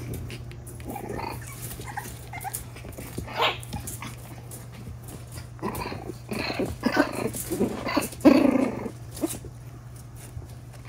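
Six-week-old French bulldog puppies play indoors with scattered growls, yips and scuffling bursts that grow busier toward the end, over a steady low electrical hum.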